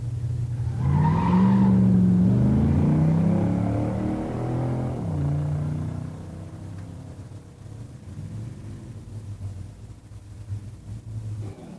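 Pure stock drag race between a Buick Grand Sport Stage 1 and an 85 fuel-injected 350 automatic Corvette: loud engines roar and rise through the gears near the line, then fade into a more distant drone.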